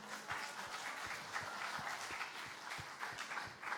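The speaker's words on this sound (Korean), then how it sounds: "박수." Applause from a church congregation during a prayer school session: a light, sparse patter of hand claps with several sharper individual claps, moderately quiet and continuous throughout, with no talk.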